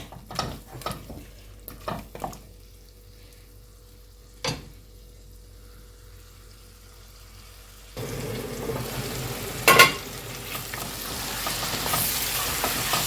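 Chicken cooking in a pan: intermittent stirring knocks and scrapes at first, then a steady sizzle of frying that continues to the end, with one sharper scrape in the middle.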